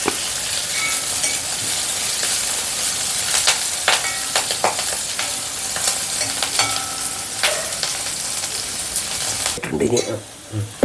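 Curry leaves crackling in hot oil with chillies in a pan, a loud continuous sizzle punctuated by sharp spatters and stirring clinks, ending in a brief clatter, no speech.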